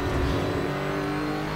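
A Lotus Evora engine screams at high revs while racing hard around Laguna Seca in Assetto Corsa, a steady loud drone that holds throughout with no voices over it.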